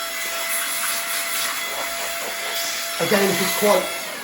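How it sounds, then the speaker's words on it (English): Steady blowing hiss as dust is blown out of the vents and fan of a Sony PlayStation PS5, constant and close, with someone speaking near the end. "give all the arms a blow, give all the vents a blow, give the fan a blow"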